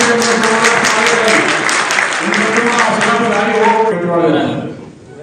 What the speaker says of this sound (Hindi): हमें इनका जोरदार तालियों से स्वागत करना चाहिए।